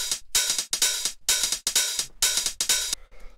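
Cymbal samples from a techno track, bright sustained crashes and open hi-hat washes hit in a repeating rhythm, each ringing briefly then cut off, loud and alone.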